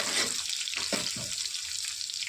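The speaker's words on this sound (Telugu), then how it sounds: "చిన్నగా కట్ చేసిన కాబట్టి పచ్చిమిర్చి డబ్బునే ఫ్రై అవుతుంది" Finely chopped green chillies fry in a pan with a bright, steady sizzle up close, broken by two or three soft scraping stirs, with no speech.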